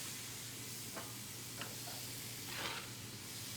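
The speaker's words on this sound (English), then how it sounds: "So we're going to sear these on both sides." Thick-cut pork chops searing in a skillet, a faint, even sizzle with a few soft clicks and a brief swell of hiss, heard alone without voices.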